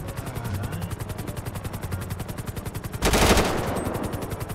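Automatic gunfire in GTA 5 roleplay, a fast steady burst of rapid shots running straight through, loud and close, broken by a sharp louder blast near the end, with no voices over it.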